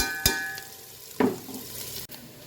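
Sliced onions frying in a pan for chicken dum biryani give a steady low sizzle, with a couple of brief clinks from the pan close by.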